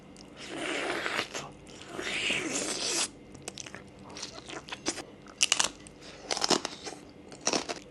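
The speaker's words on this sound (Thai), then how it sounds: "หมูกรอบที่ดีต้องดูดได้นะฮะ ฟังเสียง" Crunchy, crispy pork belly being bitten and chewed up close, with loud crackling crunches at first, then softer, irregular chewing crackles.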